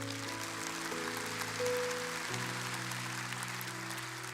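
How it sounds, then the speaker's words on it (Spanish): A church congregation applauding at a service, heard as a soft, steady wash of clapping that lasts throughout, partly masked by sustained keyboard chords that change pitch midway. "Y denle un aplauso a Cristo en esta tarde."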